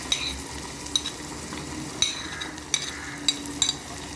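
Ginger and onion stirring and frying in a pot, with a steady sizzle throughout and a spoon scraping and clinking against the pot every second or so, close and alone.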